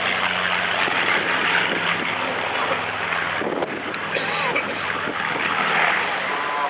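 Steady, loud drone of a Lancaster bomber's propeller engines, a continuous roar that holds throughout with a slight dip midway.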